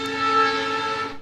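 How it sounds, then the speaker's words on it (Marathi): A train horn sounds one steady, tonal blast lasting about a second, fairly loud and alone, near a railway line beside a rubber-ball cricket tournament ground in Dombivali. "ट्रेन की आवाज़ भी देखिए भाई"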